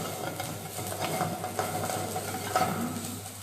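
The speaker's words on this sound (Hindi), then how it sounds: "स्पिनच प्याज और लहसुन के साथ भून रहा है।" Spinach frying with onion and garlic in a pan, a steady moderate sizzle with occasional stirring scrapes and light utensil clinks, close by with no talk.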